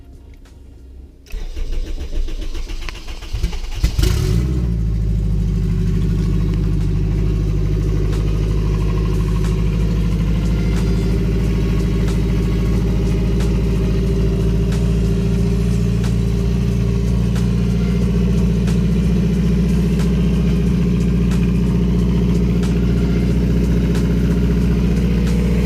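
A turbocharged Acura RSX cranks over and catches on a cold start, then settles into a steady, loud idle with a deep constant drone held close by for the rest of the time, no talking.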